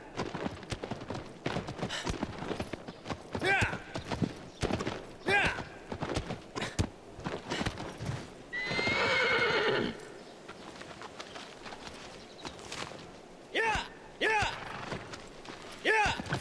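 In Shadow of the Colossus, a horse gallops with a rapid, rhythmic clip-clop of hooves and lets out a loud neigh midway, while people talk over the game sounds.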